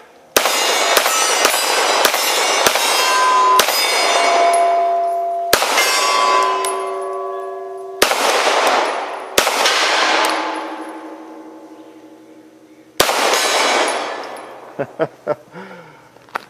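CZ P-09 pistol firing at a propane tank outdoors, a string of loud sharp shots each followed by a bright ringing clang that decays slowly, spaced irregularly with a few quick pairs.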